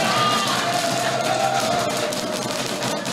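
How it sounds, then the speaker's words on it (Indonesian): The crowd at a public debate between candidates for mayor and deputy mayor of Bandung gives a loud, continuous wash of applause and cheering, with a faint tone running beneath it. "Boleh kita kasih tepuk tangan yang luar biasa."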